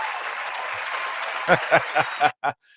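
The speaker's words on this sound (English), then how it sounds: "Let me give it an applause for this technological advancement" A burst of applause rises steadily, then breaks into a few separate loud claps and cuts off abruptly, followed by a brief faint sound.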